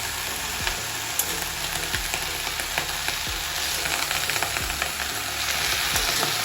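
Vegetables and jackfruit seeds fry in an oiled wok with a steady, close sizzle and a few light scraping stirs, with a faint engine-like hum underneath throughout.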